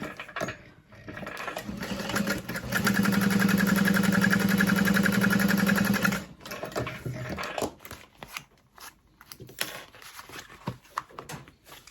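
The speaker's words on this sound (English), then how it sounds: "I'm going to top stitch along the vinyl" A sewing machine topstitches along vinyl on an Aster bag, whirring in a loud, steady run of a few seconds amid handling noise, then falling back to quieter shuffling.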